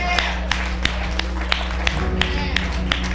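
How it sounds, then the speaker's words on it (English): Church congregation clapping in a regular beat of sharp claps, about three per second, over a steady low hum and background music, with voices present. "If you are clapping, do it better."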